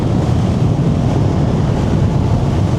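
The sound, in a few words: wind blowing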